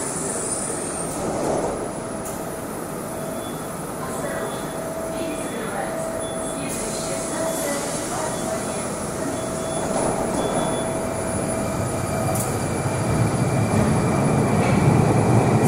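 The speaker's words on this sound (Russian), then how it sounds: "This train terminates here." Moscow metro subway train on the Kalininsko-Solntsevskaya line, a steady loud rumble of wheels and car noise with faint squeals and beeps, growing louder toward the end.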